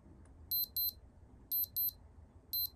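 Casio ATC 1000 vintage digital watch alarm sounding three times, each a pair of short, bright, piercing double beeps repeating about once a second over quiet background hiss, close and clear.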